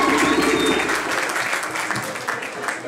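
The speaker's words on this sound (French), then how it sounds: "applaudissez" An audience at a presentation event claps warmly to honour guests, the applause dense at first and then gradually thinning and softening toward the end.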